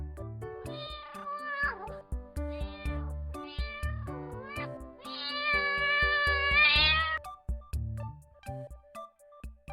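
A cat meows several times, including one long drawn-out yowl, over a steady ticking beat in the background.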